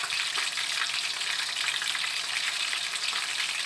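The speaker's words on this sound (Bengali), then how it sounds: "এবার আমি একটা চামচ দিয়ে হালকা চাপ দিয়ে ধরে ধরে ভেজে নেব এবং একটু পর পর এগুলো উল্টিয়ে দেব।" Pieces of pointed gourd fry in hot oil for potol bhaji, giving a dense, even sizzle held close throughout, pressed down with a spoon, with no voices.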